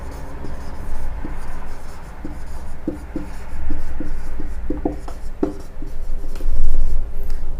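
Pen writing a math solution by hand on paper, soft close scratching strokes and taps in an irregular rhythm over a low background hum.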